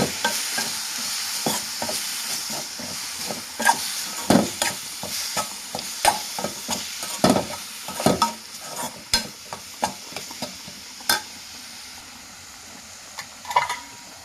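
A spatula scrapes and clacks in a pan as egg is stirred into a frying drumstick and cabbage stir-fry. Steady sizzling runs underneath, with many quick, close stirring knocks and scrapes in an irregular rhythm.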